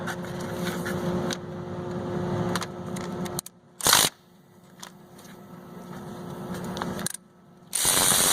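A ratchet wrench clicks while loosening 10mm bolts on the P7100 injection pump of a Dodge 12-valve engine, with rapid ticking runs broken by short louder clanks and pauses.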